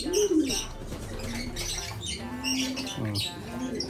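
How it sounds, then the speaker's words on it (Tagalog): Red bar racing pigeons coo and squawk nearby in a loft, a few low throaty coos and rustles repeating in an uneven rhythm over faint background noise. "Ito yung red bar mga kalapatids."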